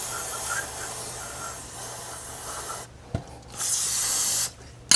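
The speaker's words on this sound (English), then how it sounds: "clean the rest of the stuff off just with some brake cleaner" Brake cleaner sprays in a couple of short, close hissing bursts during an oil change on a 2009-2015 Club Car XRT 950, over a low background hum.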